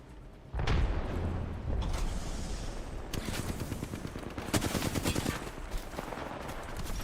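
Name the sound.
gunfire in a video game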